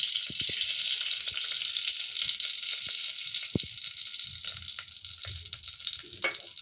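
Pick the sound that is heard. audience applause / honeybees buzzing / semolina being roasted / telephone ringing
semolina being roasted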